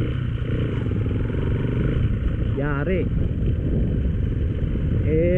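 A motorcycle rides a rough road near Libre waterfalls, its engine a steady, loud, rumbling drone with some clatter, while someone speaks briefly over it.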